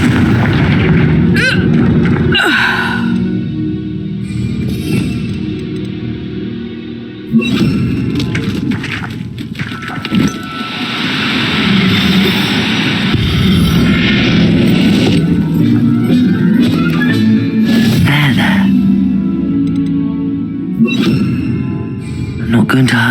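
Fiery blasting explosions from the Confringo spell in the video game Hogwarts Legacy, loud booms set within dense combat sounds and continuous action noise.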